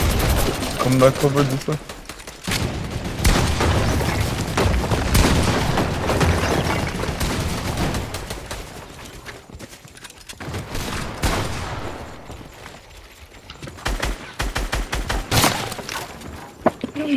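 In the video game Fortnite, a minigun fires long, rapid, continuous bursts with booming impacts, loud and close, while players talk over the gunfire.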